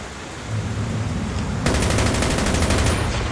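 Rapid machine gun fire rattles in a Call of Duty match, dense continuous bursts that grow louder and harsher partway through.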